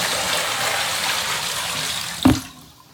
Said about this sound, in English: I'm gonna dump it in my tub or my bathroom real quick.